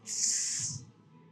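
A single forceful hissing exhale, close and breathy, lasting under a second before fading.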